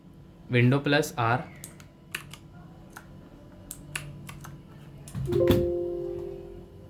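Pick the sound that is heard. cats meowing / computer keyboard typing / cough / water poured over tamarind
computer keyboard typing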